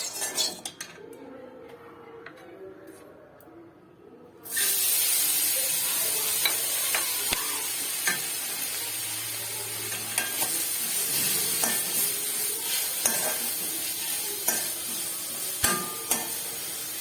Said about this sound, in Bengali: গাজরটাকে একটু ভালো করে আমি এখন ভেজে নেব।